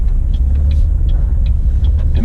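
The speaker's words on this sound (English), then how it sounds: "I'm gonna stop right here at the stop sign." A Buick Encore sits at a stop sign, its engine holding a steady low rumble from inside the cabin, with faint ticking clicks repeating above the idle throughout.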